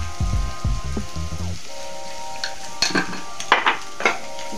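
Vegetables fry in a pan with turmeric and are stirred, making quiet sizzling crackle and a few scraping stirs. A louder clattering tonal sound opens the clip before fading out.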